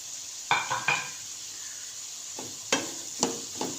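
Green garlic fries in a pan with a steady low sizzle, broken by several sharp clinks and scrapes of a spoon stirring against the metal.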